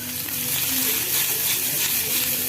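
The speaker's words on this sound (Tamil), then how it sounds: "கடாயில் எண்ணெய் ஊற்றி வச்சு 1 ஸ்பூன் கடுகு போட்டாச்சு" Steady crackling sizzle of mustard seeds popping in hot oil in a kadai, dense and continuous, close by with no voices.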